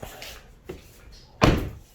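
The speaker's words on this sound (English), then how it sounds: "Close the door." The door of a BMW 335i with a single turbo shuts with a firm, close thunk after a couple of softer knocks and clicks.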